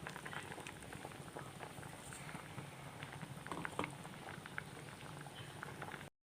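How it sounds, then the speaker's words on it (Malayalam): Fish curry with ground coconut paste boiling in a pot, a close, continuous bubbling and popping that stays even throughout before cutting off abruptly at the end. "അപ്പോൾ അരപ്പൊക്കെ നന്നായിട്ട് തിളച്ചിട്ടുണ്ട്."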